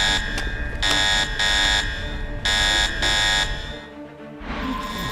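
An alarm in the video game Resident Evil 6 sounds in loud repeated electronic buzzes, four long pulses with short gaps, then cuts off into quieter background noise.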